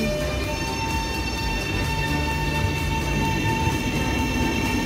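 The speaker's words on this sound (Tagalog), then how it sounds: "Ayan na ang train." Train arriving at a station in Kuala Lumpur, a loud, steady rumble of rolling cars with a sustained high metallic wheel whine and hum, continuous and close throughout, with no voices.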